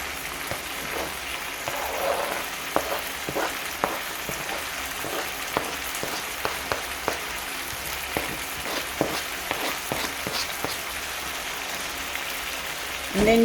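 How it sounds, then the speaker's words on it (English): Green pepper and onions frying in a pan with chicken liver, a dense steady sizzle with many small crackles and pops, close and moderately loud, no speech. "I'll put them in. My green pepper, my onions,"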